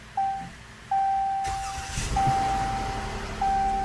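A modern push-button-start car, brake held and start button pressed: short electronic chimes sound, then a broadband burst as the engine cranks and catches into a steady idle, close and moderately loud.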